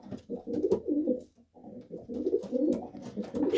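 A cock pigeon coos excitedly close by near nest bowls in a loft, giving a steady run of throaty, rolling coos with a short pause partway through.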